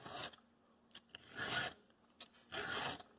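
A hand file sharpening the teeth of a chainsaw chain, three slow rasping strokes with short pauses between, each a gritty metallic scrape, close and quiet with no talking.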